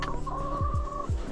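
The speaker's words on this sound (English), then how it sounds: "Let's check on the chickens." Chickens cluck close by in a snowy coop during a winter storm, giving a short run of soft, pulsing clucks with a drawn-out tonal call.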